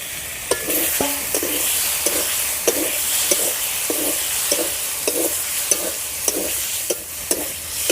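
Fried pointed gourd being stir-fried in a spiced masala that has released its oil, steady sizzling broken by regular scraping strokes of a spatula against the pan, close and fairly loud, with no talking.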